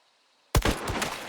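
A single sharp gunshot in the video game Hunt: Showdown, loud and close, bursting after half a second of near-silence and trailing off in a rumbling echo.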